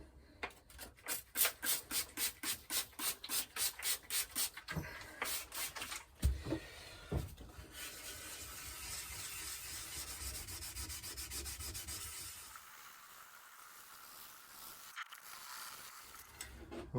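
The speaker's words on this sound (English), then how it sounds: "I'm going to start sanding with 1500 wet and dry" Lacquer being wet sanded by hand with 1500 grit wet and dry paper, rhythmic back-and-forth rubbing strokes up close, then slower scattered scrapes and a softer steady rub.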